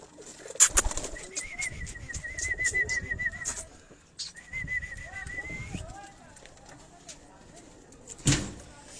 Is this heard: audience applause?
no